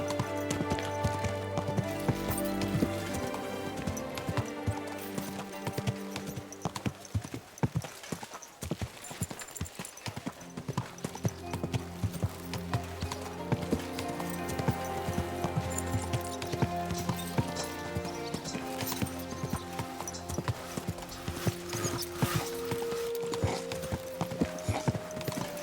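Horse hooves clip-clopping steadily while riding in Kingdom Come: Deliverance 2, a continuous rhythmic beat under loud tonal music throughout.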